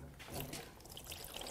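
Dirty fluid, water from the intake manifold, is poured out of a trashed Toyota 2AR-FE 2.5L engine into a drain pan as a faint, brief, continuous trickle and splash with a nearby voice over it.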